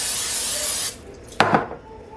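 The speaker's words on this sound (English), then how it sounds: "I'm gonna coat my pan with some my air fryer pan with some pan spray" A steady hissing of cooking spray onto an air fryer pan runs for about a second, then stops, followed by a short clatter and faint rustling.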